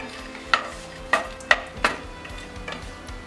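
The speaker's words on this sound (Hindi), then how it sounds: "सबसे पहले हम काजू और बादाम को हल्का सा फ्राई कर लेते हैं।" Cashews and almonds fry lightly in hot ghee for semolina halwa, giving a soft steady sizzle punctuated by four or five sharp spoon-against-pan clinks, close and clear with no talking.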